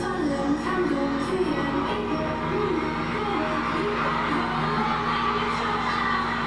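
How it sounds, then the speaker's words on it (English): A concert crowd cheers wildly, a dense continuous roar of shouts and whoops holding steady and loud for several seconds. "The crowd went nuts."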